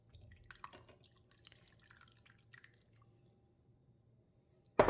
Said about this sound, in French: Maintenant, on va aller égoutter nos petites perles de tapioca.